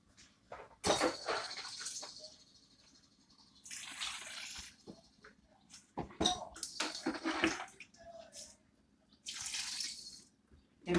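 Water poured over bananas in a container, intermittent splashing and running water in several separate bursts, close and fairly quiet, with clinks of the container between pours.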